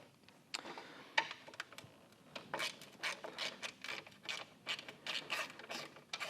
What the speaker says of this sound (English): loosen those nuts up from the underside